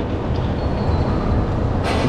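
A Baku metro train at Sahil station gives a loud, steady rumble and rush inside the station, with continuous low roar throughout and no talk.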